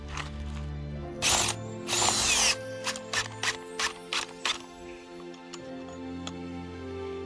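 Ryobi power tool driving a tent stake at a campsite: two longer loud whirring bursts followed by a string of short, evenly spaced buzzes, close by, with a faint low hum underneath.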